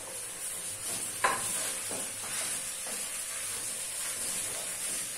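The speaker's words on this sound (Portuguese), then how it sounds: "Refoguei bem o arroz." Rice with salt is sautéed in a pan for a zucchini rice dish, a steady low sizzle broken by several scraping spoon strokes as it is stirred, close and fairly quiet.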